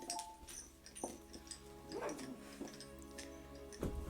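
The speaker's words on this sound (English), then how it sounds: "Dog's going nuts in the garden." Dog barking in a garden, somewhat distant, with several short yips and barks scattered over a few seconds against faint background sounds.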